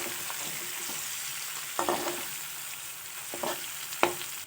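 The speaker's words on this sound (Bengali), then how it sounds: "আস্তে আস্তে ভাজতে হবে যাতে গলে না যায়।" Potatoes fry gently in fish oil with a quiet, steady sizzle, broken by a few sharp scrapes and clinks as a spatula stirs the pan.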